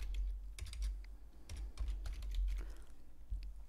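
Rapid, light clicking of computer keyboard keys being pressed during Excel spreadsheet work, in short irregular bursts at close range in a quiet room.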